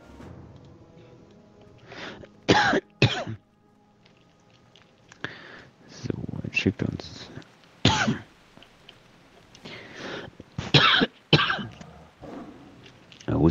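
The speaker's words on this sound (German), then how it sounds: "Der Hust macht mich eh fertig." Several bursts of coughing and throat clearing from a player during a World of Warcraft: The Burning Crusade session, scattered harsh hacks close to the microphone, with brief spoken words and faint game sounds between them.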